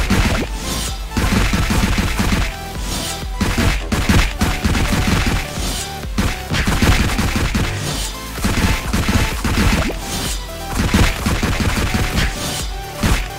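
Dagger strikes landing on a medium-sized training dummy in Ragnarok Origin, a fast, loud barrage of sharp whacking hits repeating in rapid irregular bursts without pause.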